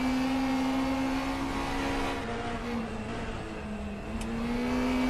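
Race car at Mid-Ohio in a sim racing game, a steady droning engine note that dips and recovers as the car slides in lift-off oversteer, continuous and close.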